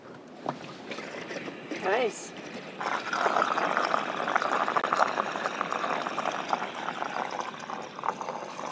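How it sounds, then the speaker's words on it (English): Water runs steadily into the tanks of a truck camper parked in the Badlands, a continuous rushing hiss that starts a few seconds in and carries on, with a voice heard briefly near the start. "I have the lovely task of filling up our tanks with water."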